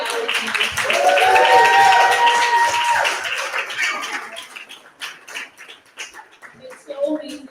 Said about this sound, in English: Let's give a round of applause for the amazing Blo Back Gallery.